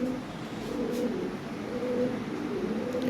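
Toy Lahori pigeons with red beaks coo steadily at close range, a low rolling murmur repeating under a continuous background hiss.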